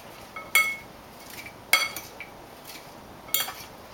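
A utensil stirring a raw vegan mango curry salad in a bowl, giving three or four separate sharp clinks against the dish at irregular moments over quiet room tone, with no talking.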